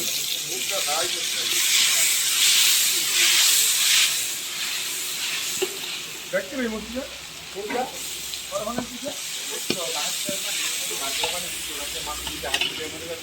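Ginger garlic paste fries in a hot pan on a high-powered stove with a loud, steady sizzling hiss, while a spatula scrapes and clinks against the pan in irregular strokes.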